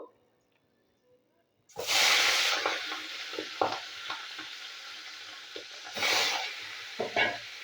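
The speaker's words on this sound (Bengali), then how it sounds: "মাছের মুড়োটা আমি ভেজে নিচ্ছি।" After a quiet start, a rohu fish head sizzles loudly in hot oil, a steady hiss broken by occasional clacks of a utensil.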